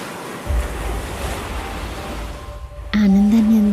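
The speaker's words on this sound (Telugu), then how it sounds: "ఆనందాన్ని అందించే అలలు" Ocean waves wash onto the shore in a steady roar with wind noise, then a sharp tonal hum rises over the surf near the end.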